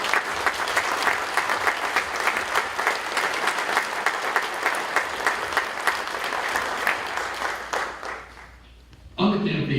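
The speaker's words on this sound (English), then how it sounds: "Let us give them a big round of applause for all of what they did tonight." Applause from the audience at the Maui County State of the County address, a dense steady ovation lasting about eight seconds and fading out, with a voice speaking briefly near the end.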